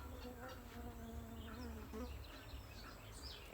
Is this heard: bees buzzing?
yes